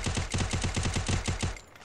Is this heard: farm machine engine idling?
no